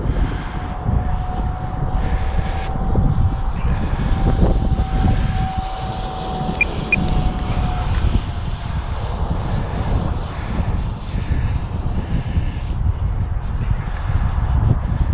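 A 25-inch balsa scratch-built electric ducted fan Gnat model jet at full throttle in flight: a loud, steady, rushing whine with wind buffeting that holds for the whole stretch.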